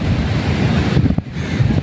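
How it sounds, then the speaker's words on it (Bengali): Surf roaring steadily on Gopalpur beach, a loud continuous wash of breaking waves mixed with wind buffeting the microphone, with no voices. "সমুদ্রের গর্জন আরো বাড়ছে, শব্দ আরো তীব্র হচ্ছে।"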